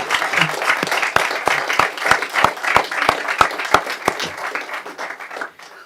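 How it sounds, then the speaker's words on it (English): A round of applause in a city council session: crowd clapping with a few loud, evenly spaced single claps standing out near the front, then tapering off and fading near the end. "That deserves a round of applause right there"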